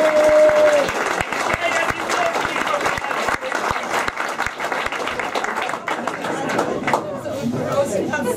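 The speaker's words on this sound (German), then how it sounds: "hier Applaus für die Dame" Applause for a woman at a German club event near Mannheim, steady clapping from a crowd with chatter and a voice speaking over it throughout, loud and close.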